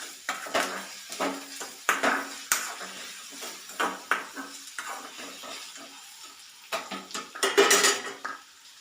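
A spoon stirs onions and salt in a metal cooking pot for a curry. It scrapes and clanks steadily in repeated strokes, loud and close, with a busier burst of clatter near the end.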